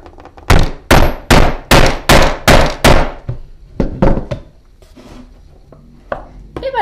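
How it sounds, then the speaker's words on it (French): Hammer blows setting a metal eyelet with a setting tool while building a battery charger box, seven sharp evenly spaced strikes in a row, then a few quieter taps and handling noises. "Un bon coup de marteau."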